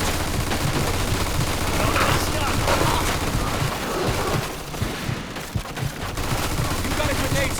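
Machine gun fire in the Mafia 2 video game rattles in dense, continuous bursts mixed with heavier booms, loud and close for the whole stretch, easing briefly midway before the shooting picks back up.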